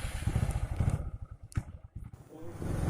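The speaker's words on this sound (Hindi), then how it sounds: "इसलिए मैं बाइक निकल रहा हूँ" A motorcycle being taken out and ridden, its engine rumbling close by with uneven surges and clattering, dipping briefly before picking up again, with a voice speaking over it at times.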